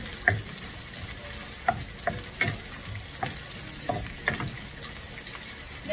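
Garlic and onion sautéing in a pan for a Filipino corn dish, a steady close sizzle broken by irregular scrapes and clacks from stirring, with no voices over it.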